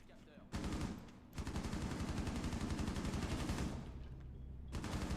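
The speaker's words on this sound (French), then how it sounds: "Ah il tire sévère l'autre." Rapid automatic gunfire from the Rainbow Six video game: a steady stream of close, loud bursts running almost the whole time, with short breaks near the start and near the end.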